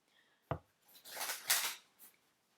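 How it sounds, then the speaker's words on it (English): Tarot cards being shuffled by hand, a sharp tap followed by a run of soft riffling and rubbing card sounds, close and quiet with no voices. "Let's shuffle it in."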